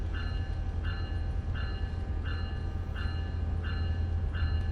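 A train rolls steadily in Train Sim World 4, likely the EMD F125 locomotive, with a constant low rumble and a repeating high tonal chime pulsing about every 0.7 seconds, loud and continuous with no talk.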